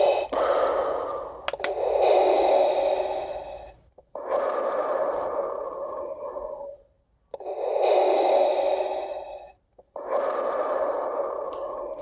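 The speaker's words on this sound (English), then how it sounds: "the sound will change to a reversed breathing with longer breaths" Reversed, drawn-out breathing effect from a Jazwares Darth Vader full costume voice unit, four long hissing breath cycles with short silent gaps between them, close and fairly loud with nothing else heard.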